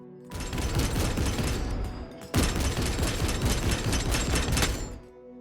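Rapid sustained gunfire from an Impulsor transport laying down covering fire in a Warhammer 40k battle, two long bursts of rattling shots split by a brief pause, loud and close before cutting off.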